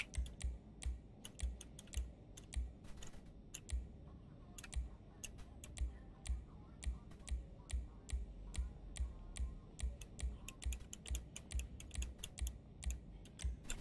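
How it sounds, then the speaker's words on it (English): Loud computer keyboard typing during PC play, a steady run of sharp clicking keystrokes close to the mic, nearly continuous through the clip with brief pauses. "Sorry if you can hear my keyboard, it's really loud right now."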